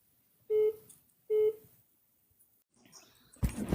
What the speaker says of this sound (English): I'm getting a phone call, so y'all ignore that noise in the background.